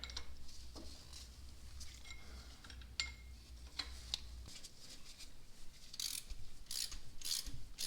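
A ratchet works a bolt loose on a Porsche 944 engine during head gasket removal, giving bursts of quick metallic clicking that pause and resume, close up and fairly quiet, with no one talking.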